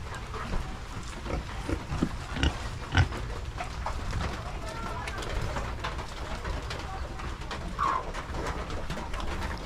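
A pig grunts on a farm amid steady outdoor ambience, with pigeons or doves cooing and other birds calling nearby and people talking in the background.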